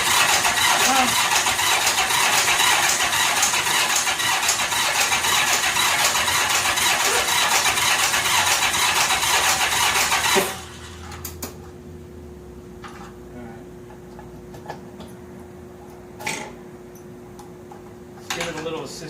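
A 1985 Honda Gold Wing GL1200 Aspencade barn-find motorcycle, left sitting for 28 years, cranks loudly and steadily for about ten seconds without firing, then stops and leaves faint clicks and light background noise.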